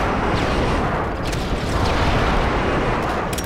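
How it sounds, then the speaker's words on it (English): Airstrike explosions in Call of Duty MW3 rumble and boom in a loud, dense wall of blasts and gunfire, continuous and close throughout. "Friendly airstrike on the way."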